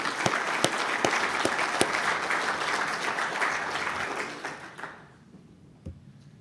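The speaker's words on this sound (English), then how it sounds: "Can we get a round of applause for helping make sure we can actually do this?" A conference audience at a builder summit applauds the event sponsors, dense clapping with sharp individual claps standing out, then thinning and fading to a few scattered claps near the end.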